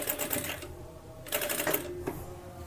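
A sewing machine stitches fabric in short bursts of rapid mechanical clatter, three runs separated by brief pauses, close and moderately loud.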